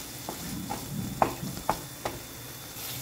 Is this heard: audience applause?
no